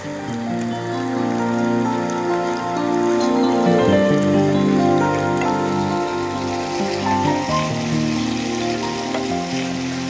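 Masala with coriander and cumin powder simmers in a pan after half a cup of water is added, giving a steady close bubbling and sizzling crackle, with a faint tonal hum underneath.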